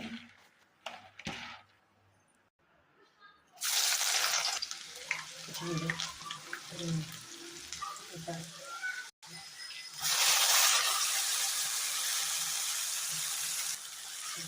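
Garlic dropped into hot oil for a Gujarati bhaji of gunda blossoms sizzles and crackles in bursts, loud broadband frying that swells after a quiet start, with occasional stirring clinks and brief pauses.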